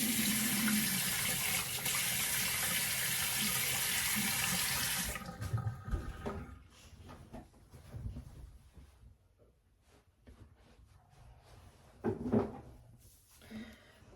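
Water runs steadily from a tap for about five seconds, loud and close, as a cleansing device is rinsed, then stops, leaving soft handling clatter and a couple of brief splashes.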